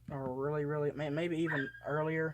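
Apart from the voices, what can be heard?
pit bull dog barking and whining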